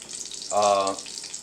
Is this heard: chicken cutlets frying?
yes